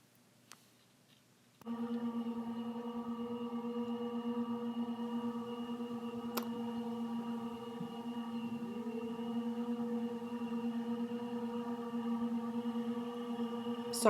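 A lawn being mowed outside: a steady, droning engine hum with a strong low buzz and stacked tones starts abruptly and runs continuously in the background, fairly faint and distant, with a few brief clicks.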